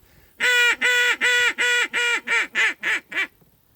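A duck call blown as a hail call in a descending series of about ten loud, nasal quacks, starting long and getting shorter and quicker, close and alone.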